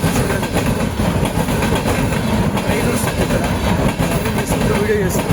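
A train passes nearby, filling the whole stretch with loud, continuous rumbling and rhythmic clattering of rail cars that never drops away.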